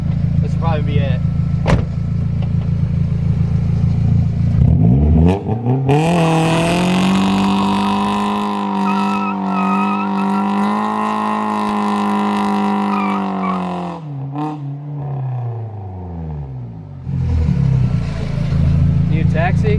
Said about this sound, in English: I'm gonna try to do another burnout.